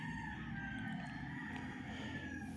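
Chickens and roosters at the Bocaue, Bulacan poultry market, with several roosters crowing one over another and hens clucking amid a constant murmur of market noise.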